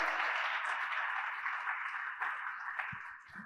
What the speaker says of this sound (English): A better round of applause for that passionate rendition